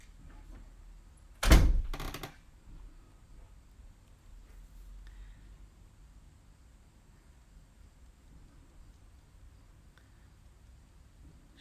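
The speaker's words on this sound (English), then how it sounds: "Valentina, close my door" A single door swung shut indoors, one sharp close thunk with a brief rattle, followed by a low steady room hush.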